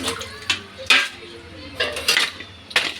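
A pressure cooker and other dishes are scrubbed and washed, producing a series of sharp clanks and scraping knocks of metal utensils at irregular intervals, fairly close.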